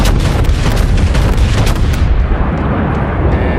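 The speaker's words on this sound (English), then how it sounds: "We're just going to saturate that area with shells. Main turret, we're taking over quickly." Texas-class battleship main turrets fire shells in World of Warships, a very loud cluster of heavy booming blasts that ends in a rumbling decay.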